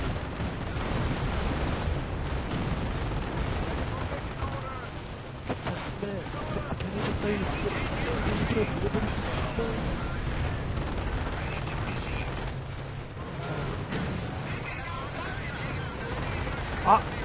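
Artillery bombardment in the Company of Heroes video game, a dense continuous barrage of booming blasts and crackling gunfire over seventeen seconds, loud and sustained, with voices talking excitedly over it.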